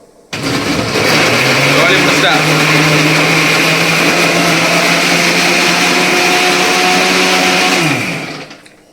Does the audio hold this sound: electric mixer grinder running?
yes